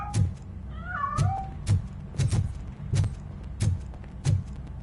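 A cat meows repeatedly in the Robocop video game, a string of short, fairly loud mews spaced about half a second to a second apart over a steady low game rumble.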